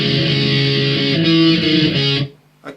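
A distorted electric guitar plays a short riff from a song, thick and loud with held, changing notes, then stops abruptly, followed by a brief faint noise.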